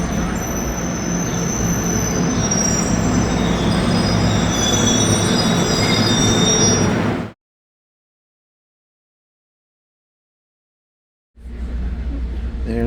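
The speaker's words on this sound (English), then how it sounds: "here now is Northeast Corridor Train 3838 heading into Penn Station" A Northeast Corridor passenger train rolls into a New York station loudly with steady rumbling and squealing wheels, then cuts to silence for several seconds before the rumble resumes.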